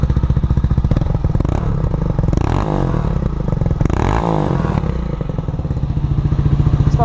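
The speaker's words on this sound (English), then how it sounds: "Let's see if we can get some exhaust here." A cold 2017 Honda Grom motorcycle engine is revved close up, its small single's exhaust popping rapidly and rising into two sharp blips before settling back to a fast idle.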